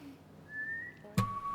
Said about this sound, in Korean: 너 휘파람 불어봐.